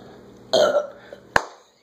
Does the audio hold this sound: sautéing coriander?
no